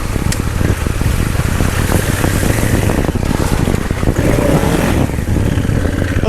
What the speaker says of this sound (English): And then I can turn the bike all the way around.